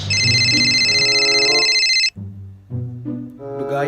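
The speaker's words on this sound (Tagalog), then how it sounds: "vibrate akong cellphone" A mobile phone rings loudly with a bright, repeating electronic ringtone that sounds steadily for about two seconds, then cuts to quieter, lower tonal sounds near a fishport.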